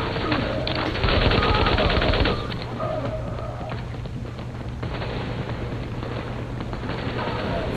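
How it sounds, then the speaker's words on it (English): A machine gun in The Division fires in dense rapid bursts, loud and close, with the heaviest stretch early on and then continued clattering fire over a constant game background. "Yeah, you can see this machine gun, how good it is already"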